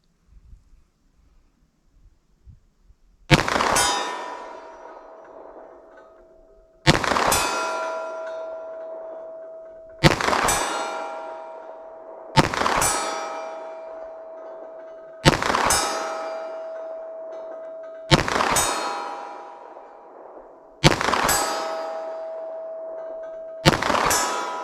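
9mm pistol rounds striking a steel target at 75 yards, eight sharp ringing clangs spaced about three seconds apart, each followed by a decaying metallic hum, with no gunshot reports audible.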